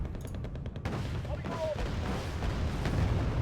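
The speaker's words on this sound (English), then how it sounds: "Hopefully the cluster munitions hit the mark." Cluster munitions and artillery explosions in the Wargame: Red Dragon video game, a dense rumble of distant booms and crackling blasts rolling on continuously at moderate level with no talk.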